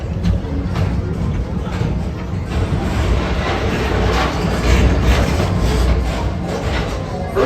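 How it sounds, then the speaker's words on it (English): A PeopleMover ride train at Magic Kingdom rolls steadily along its track, a continuous low rumble with soft rhythmic clatter that stays constant throughout. "Don't worry, your express train keeps on rolling through the future."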